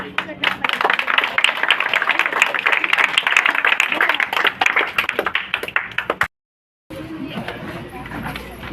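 Audience clapping in a hall, a dense burst of many hands that runs for about six seconds, cuts off abruptly, then resumes more softly after a short gap.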